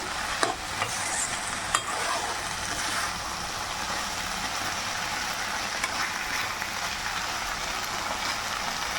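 Spices fry and crackle steadily in a pan for a homemade curry, a continuous close sizzle with a few sharp stirring clinks near the start.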